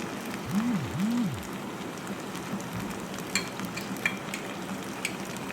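Spaghetti is stirred in a pan with chili sauce, soy sauce and black and white pepper, giving a soft, steady sizzle with a few faint utensil clicks scattered through it.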